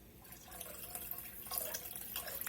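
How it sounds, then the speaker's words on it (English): Water pours steadily into a pot, a soft continuous splashing and trickling sound close by, fairly quiet. "I'm going to add a little bit more water."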